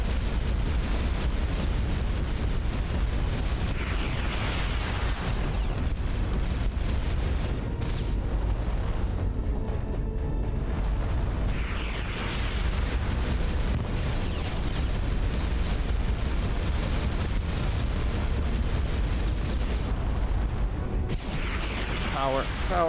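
Enemy missiles exploding in the space game Starcom: Unknown Space, a dense, loud, continuous wash of booming detonations and rumble with bursts layered over game noise.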